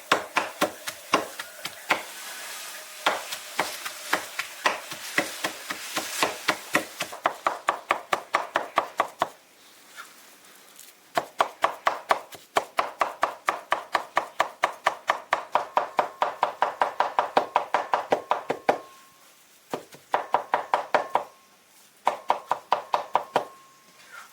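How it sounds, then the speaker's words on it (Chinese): A cleaver chopping raw bighead carp meat on a board to make fish balls, rapid rhythmic thuds in long runs with brief pauses, close and sharp, no voices. "把这个鱼肉剁碎一点。"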